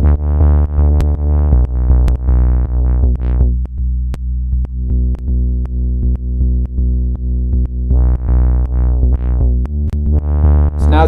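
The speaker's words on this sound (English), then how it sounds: "So now if I were to just go like this, the bass would sound like this." Synth bass programmed in Ableton with its filter cutoff being modulated, a loud, sustained low tone with steady pulsing notes and a brightness that opens and closes, playing alone with no talk.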